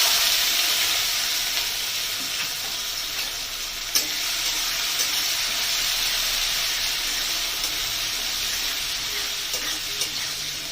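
Drained, soaked mung dal hits a hot pan for ridge gourd dal and sizzles in a steady, loud hiss for about ten seconds. A few faint stirring clicks sound near the start and end, and no one speaks.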